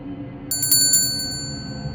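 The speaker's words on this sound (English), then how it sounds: "heard that familiar bell" A bell rings in a short run of bright, high chiming strikes over a low steady background hum, a sound effect in an animated story set on a snowy evening as shops close.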